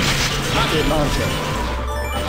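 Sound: rocket launcher firing in the video game Metal Slug 6

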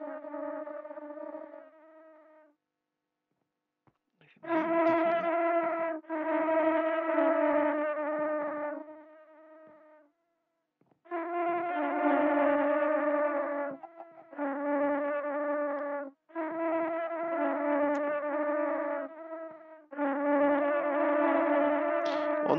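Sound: bees buzzing in video game Minecraft

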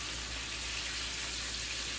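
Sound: chicken frying in oil

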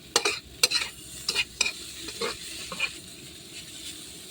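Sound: stir-frying pork fried rice in a pan

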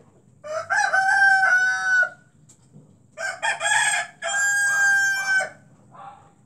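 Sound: black-capped lory parrot calling

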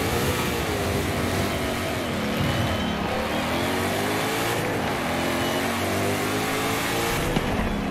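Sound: Ford Mustang engine revving in a video game

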